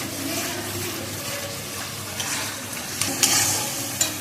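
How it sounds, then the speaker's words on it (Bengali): Ginger-garlic paste frying in hot oil for biryani, a continuous moderate sizzle with occasional stirring scrapes and clinks near the end. "এবার আমি দিয়ে দেবো আদা রসুন বাটা মশলাটা ভালো করে কষিয়ে নিয়ে"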